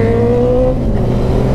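A new motorcycle with a stock exhaust revving close by, a loud, steady engine drone with a sustained humming tone that eases slightly in pitch, continuous throughout and with no voices.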